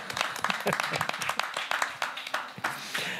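A studio audience on an auto and moto talk show claps, with sharp, uneven hand claps and a few cheers mixed with voices over a few seconds.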